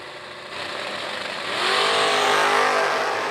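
Drag racing cars at Beach Bend Raceway, including a big-block Chevelle, roaring loudly at full throttle down the strip, the engine note rising and swelling as they accelerate.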